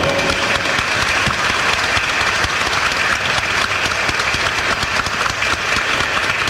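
Loud, sustained applause from a crowd at an event celebrating Paraguay's National Guarania Day, a dense unbroken clatter of clapping that fills the whole stretch without voices.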